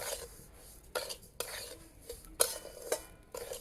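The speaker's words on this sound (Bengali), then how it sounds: "আমি ডালিয়ার সাথে সব মশলাগুলো ভালো করে একটু ভেজে নেবো" Dalia stir-fried in a pan with turmeric, ginger paste and garam masala, heard as soft, close scraping and stirring strokes in uneven bursts with light clinks of a utensil against the pan, no talk.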